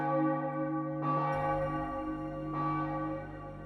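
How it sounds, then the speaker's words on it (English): A large bell in the visual novel Irotoridori no Sekai tolls twice, each deep chime ringing out loud with a long resonant decay that lingers between strikes. "The bell chimed."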